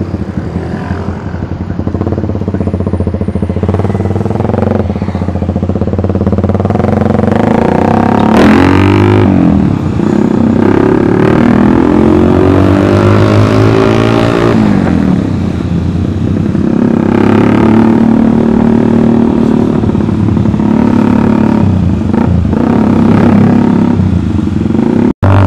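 A Kawasaki Ninja four-stroke 1000cc motorcycle rides and revs, its loud close engine climbing and falling through several strong accelerations over a steady drone, with no talk.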